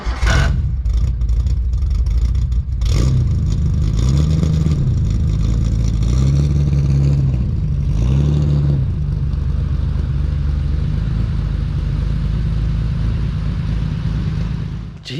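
A Datsun 240Z engine running by a shed, idling loud and close, with a few revs rising and falling in the first half before settling into a steady rumble.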